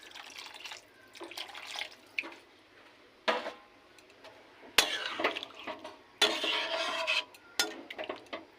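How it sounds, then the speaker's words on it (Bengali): Water is poured into a cooking pot of simmering curry with potatoes and jackfruit, arriving in several separate splashy bursts of pouring and sloshing between quiet pauses. "আর একটু জল দেবো।"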